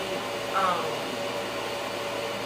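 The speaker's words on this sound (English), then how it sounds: "This is a portable hooded blow dryer, or a hooded dryer, a portable one." A portable hooded hair dryer runs with a steady, quiet airy whoosh and low hum, unchanging throughout, with a faint brief tone near the start.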